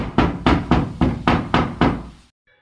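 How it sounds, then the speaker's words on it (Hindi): Six evenly spaced, loud knocks on a door, close and dry, followed by sudden silence. "तभी दरवाजे से खटखट की आवाज आई"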